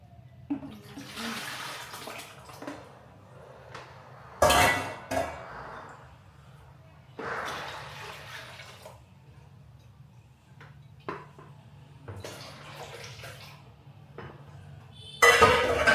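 Leftover rice-washing water is poured into a tub at home in several separate splashing bursts, with quiet gaps between pours and a steady low hum underneath.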